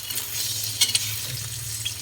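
Eggs frying in a pan at breakfast, giving a steady close sizzle with a few brief sharper crackles and pops, no talk.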